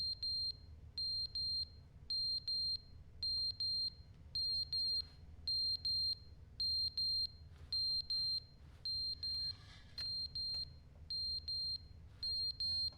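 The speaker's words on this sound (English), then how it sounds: "The fire alarm's going on, or is that a fucking gas alarm?" A fire alarm in The Stanley Parable beeps in regular, evenly spaced high-pitched pulses, repeating steadily over quiet background hum with no talk.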